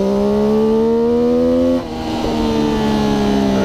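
A race car engine pulls hard in third gear through a wet left-hand corner at Agostini during a club race, a loud, close, steady drone that dips briefly partway through, then resumes its strained pitch.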